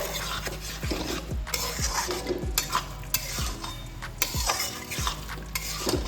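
Fresh cream gets stirred into a dhaba-style Bengali chicken bharta in a pan, making a low sizzle and a steady run of rhythmic scrapes and clanks of a spoon against the pan, with no voices.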